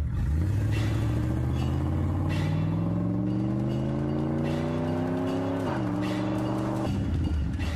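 A car engine in GTA San Andreas revs steadily upward as the car accelerates, shifts briefly, then climbs again, loud and continuous with almost no speech over it.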